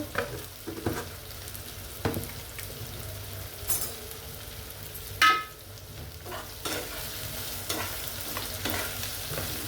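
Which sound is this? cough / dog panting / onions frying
onions frying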